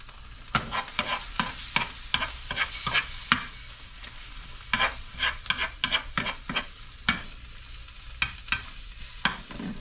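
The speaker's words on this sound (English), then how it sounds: "I'm going to add my 1 egg" An egg with Parmesan cheese cooks in a pan, giving a steady soft sizzle broken by repeated sharp scraping and stirring taps, close and clear with no talking.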